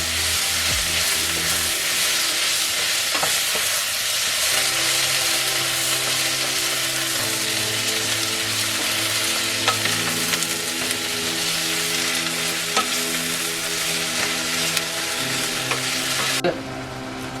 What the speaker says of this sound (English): And we're gonna dump our onions. We're gonna saute.